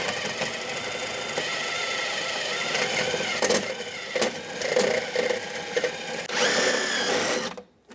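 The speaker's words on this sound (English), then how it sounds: "Now we can go on the front side and drill that rivet out." A drill whirs steadily for several seconds, drilling out a rivet on a 1988-1999 GMC K1500 interior door handle, with a gritty, high buzzing edge, briefly easing off and surging again before cutting out abruptly near the end.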